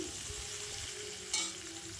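Pumpkin and potato pieces fry in a pan for a vegetable dalma with moong dal, giving a steady soft sizzle throughout with a brief brighter crackle from stirring near the end.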